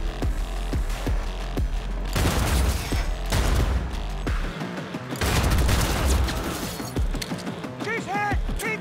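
Rapid gunfire in the video game Cyberpunk 2077, repeated bursts of shots and impacts with crashing debris, loud and close, with brief talk under the action.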